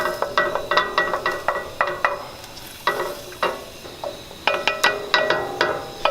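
Tomato paste is stirred into a tilted pan with a spoon, giving repeated close scraping strokes and knocks against the metal in an uneven rhythm over a faint sizzle, with no voices.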